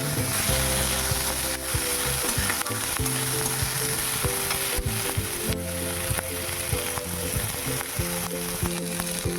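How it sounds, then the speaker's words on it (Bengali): Chopped onion, ginger and garlic frying in oil for a chicken dish, a loud, dense sizzle with steady scraping and knocking as the mix is stirred, heard up close with no talking. "এরকম কেটে রাখা পেঁয়াজ, আদা, রসুন সমস্ত কিছু দিয়ে দিচ্ছি। দিয়ে একটু নাড়াচাড়া করে ভালো ভালো করে দেবো।"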